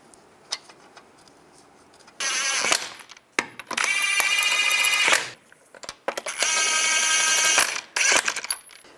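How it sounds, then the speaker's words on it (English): Lug nuts go back onto a wheel on a 2005-15 Nissan Xterra, heard as several bursts of bright metallic rattling and spinning, close and loud, separated by short quiet gaps. "Reinstall the tire, line that up, put the lug nuts on."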